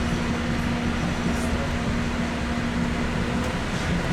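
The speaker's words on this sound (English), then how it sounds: "Wind up that great big diesel engine." Steady diesel engine drone of the Mount Washington Cog Railway train climbing at slow speed, a continuous close rumble with a strong low hum and broadband mechanical noise, no talk.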